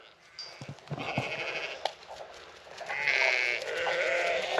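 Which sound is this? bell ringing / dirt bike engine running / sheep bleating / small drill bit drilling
sheep bleating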